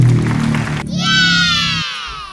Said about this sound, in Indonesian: Tepuk tangan untuk kelompok barisan keempat.